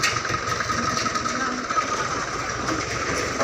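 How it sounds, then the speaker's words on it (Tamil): A tractor hauling harvested vegetables drives past a farm field, its engine giving a steady, fairly loud mechanical rumble with a rattling, clattering undertone throughout, no talk heard. "அது இந்த காய் எடுத்துகிட்டு டிராக்டர் போகுது."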